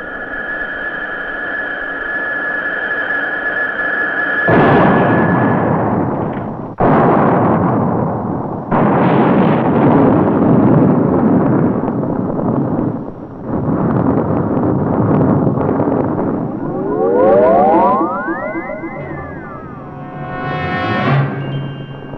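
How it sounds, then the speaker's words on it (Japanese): A loud, sustained roaring blast of an anime explosion caused by a flying craft's sonic shock breaks in over a high whine, rumbling on in heavy bursts before a rising electronic warble takes over. "我々の飛行音波の衝撃が爆発を起こしたんだからね"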